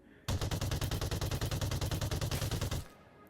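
Rapid automatic gunfire in a video game, one sustained burst of about two and a half seconds with evenly spaced loud shots, close and dominant, then stopping abruptly.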